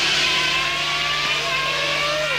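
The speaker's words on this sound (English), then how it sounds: "cars coming in and out of the pits" Formula 1 cars circling a wet track in France in 1992, with cars entering and leaving the pits: a steady engine drone with a faint rising whine sweeping past, loud and continuous.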